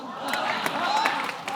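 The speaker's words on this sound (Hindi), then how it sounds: "एक बार हेजल के लिए जोरदार तालियां" A studio audience at the Kapil Sharma Show comedy talk show claps and cheers for Hazel, a dense, lively wave of applause with crowd voices mixed in.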